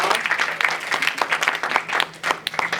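An audience claps for the winners at a guest-speaker event in a high school, a short burst of dense, lively applause close by.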